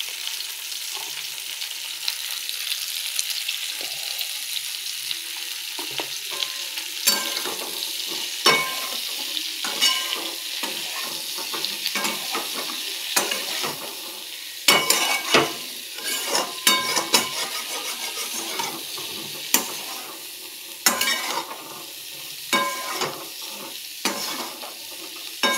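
Cauliflower pieces sizzle and fry in a pan with turmeric, a spoon stirring and scraping through them in irregular bursts, close and fairly loud, with no talking.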